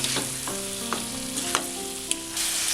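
Large potato cubes stirred into a sizzling pan of frying rice masala for Zurbiyan rice, with steady frying hiss and several sharp scrapes and clinks of the spoon against the pan, close and alone without talk.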